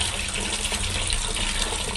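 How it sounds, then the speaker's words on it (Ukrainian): Champagne gushes from an opened tap fed by a tank into a toilet in occupied Bakhmut, a steady, close, hissing stream of liquid pouring without pause. "Вот открываю кран. Из цистерны идет. Вот идет шампанское."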